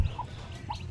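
Hens with their chicks make two short, soft clucking chirps about half a second apart over a low rural background hum.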